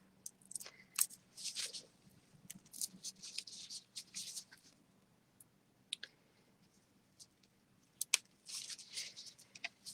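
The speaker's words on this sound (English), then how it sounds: "I am just going to cut these very carefully because I don't want to cut my fabric too" Scissors snip the ties off freshly dyed tie-dye fabric in quiet, scattered bursts of crisp cutting and clicking with pauses between, close and fairly faint.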